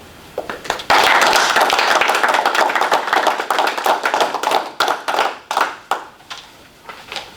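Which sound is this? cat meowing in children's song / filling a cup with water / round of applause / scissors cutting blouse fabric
round of applause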